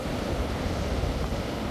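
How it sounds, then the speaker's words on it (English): Rough, angry ocean surf at a bay's channel entrance, a continuous broad roar of breaking waves with gusty wind buffeting the microphone. "The ocean is angry."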